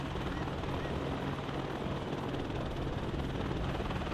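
A Chinese Z-10 attack helicopter in the combat game WARNO gives a steady, dense rotor and turbine roar, constant and close throughout with no pauses.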